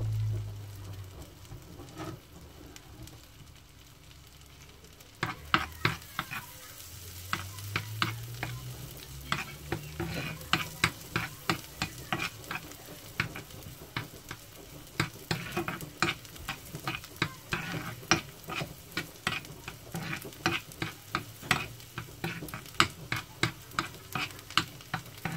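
Garlic sizzles steadily in a hot pan while a utensil stirs and scrapes it in repeated, sharp clicking strokes, close and fairly loud, starting after a few quiet seconds and growing busier.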